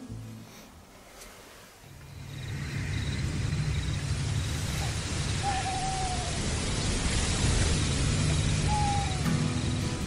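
Two short, distant owl hoots, from little owls or eagle owls, sound a few seconds apart over a steady rushing wash of surf and night ambience.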